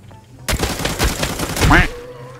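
Rapid bursts of gunfire from an MPX in a first-person shooter game, loud and close, a fast volley followed by a few more shots, with a short tonal sound near the end.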